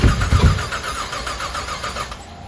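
A built 6.0 Pontiac GTO engine cranks and fires up close, a burst of loud rumbling starter turnover settling into a rough, uneven idle that fades slightly.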